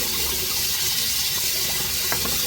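Water pouring steadily into a soup pot of chicken and ground beef, a continuous loud gushing splash close by with no talking.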